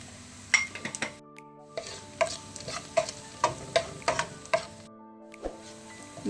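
Onions frying golden in a pan for chicken perattu crackle softly under repeated rhythmic scrapes and clinks of a spoon stirring against the metal, close and distinct, with brief pauses between strokes.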